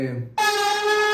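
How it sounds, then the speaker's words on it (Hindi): A touch-activated Bhagavad Gita device plays a conch shell blast, a loud sustained horn-like tone that starts abruptly after a brief low voice and holds steady to the end. "शंख की आवाज़ आएगी"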